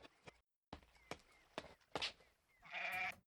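A cartoonish goat- or sheep-like bleat from the anime OVA Gosenzo-sama Banbanzai, episode 4, rings out short and fairly loud near the end, after a few sparse thumps and rustles.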